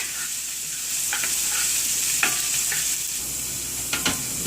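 Ginger and garlic fry steadily in a pan for lemon pepper chicken, a constant bright sizzle with a few sharper crackles and light stirring scrapes.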